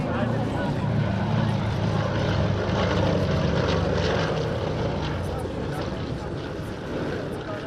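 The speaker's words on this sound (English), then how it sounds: "The Yak-52 is the elementary training aircraft of the Romanian Air Force." A Yak-52 propeller training aircraft of the Romanian Air Force, licence-built by Aerostar, flies at Romania's BIAS 2019 airshow with a steady, loud propeller engine drone throughout and a voice speaking over it.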